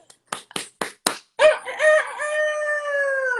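A person claps sharply four times, then imitates a rooster with a loud, close, drawn-out crowing call that rises and trails off.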